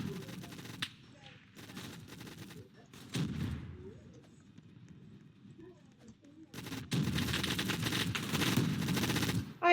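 Rapid automatic gunfire from the shooter game Gun Fire Arena rattles in dense bursts separated by short pauses, loud and continuous near the end, with players talking over it.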